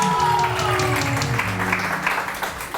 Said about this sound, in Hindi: तो जोरदार तालियां हकीम रजा इलाही